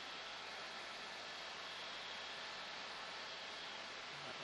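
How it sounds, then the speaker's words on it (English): Police helicopter flying overhead at a fire scene in Compton, a steady broadband rotor and engine roar holding constant and fairly distant throughout, with no talk. "police helicopter over it."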